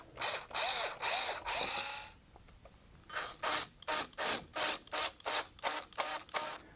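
A screw is driven into wooden table legs with a ratcheting tool, giving a rapid series of loud, close, evenly spaced ratchet clicks and rasps, with a brief pause partway through.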